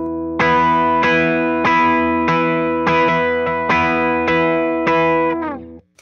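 Electric guitar strummed through a Marshall Bluesbreaker overdrive pedal, seven or eight crunchy chords struck at a steady pace and held, then cut off abruptly at the end.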